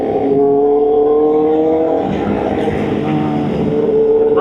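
A group of superbikes, including a V4R, an R1 and a Hayabusa, ride together on the road, their engines giving a loud, close, sustained drone with shifting pitch and no speech.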